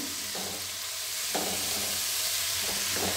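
Turnip curry, a Bengali vegetarian dish, sizzles steadily in a pan, with a constant hiss of frying. Occasional soft scrapes of stirring sound through it, and there is no talking.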